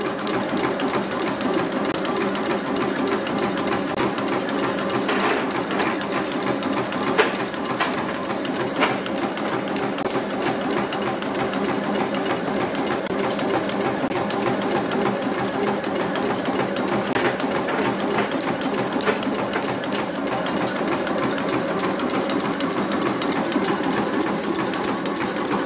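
An incense stick making machine runs steadily, with a continuous loud mechanical rattling and clattering drone that stays constant throughout with no talking.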